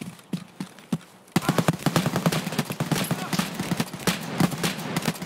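Gunfire in the video game Escape from Tarkov: a few sparse shots, then dense rapid bursts and a fusillade of sharp cracks, loud and continuous, with voices talking over it.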